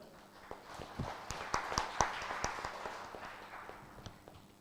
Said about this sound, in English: I request join me with a big round of applause to thank the speaker